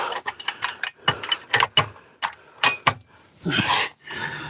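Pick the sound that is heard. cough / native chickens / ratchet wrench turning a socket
ratchet wrench turning a socket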